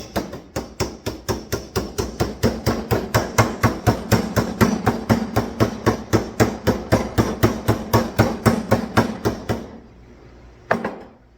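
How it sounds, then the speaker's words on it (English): Metal hammer blows tap the lid down onto a paint can, about forty sharp, evenly spaced strikes in a fast steady rhythm, loud and close, followed by a pause and one final knock. "Hammer the lid on."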